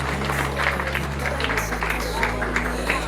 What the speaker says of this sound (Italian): si meritano anche un primo applauso loro per tutto il lavoro che fanno